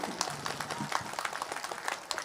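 Audience at an All India mushaira poetry gathering clapping for a poet, a lively dense patter of many hands with distinct sharp claps throughout, steady and close.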